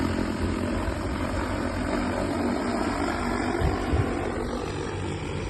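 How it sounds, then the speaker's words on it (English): Steady, loud rotor buzz of a multirotor agricultural sprayer drone hovering and flying nearby, a constant droning whine with no talking. "drone will fly to the break point."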